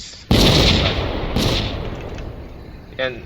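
A siege-style cannon in the Vintage Story Rusty Shell mod fires with a sudden loud blast. A rumbling tail follows, then a second boom about a second later as the shell bursts in mid-air, and a fainter pop comes near the end.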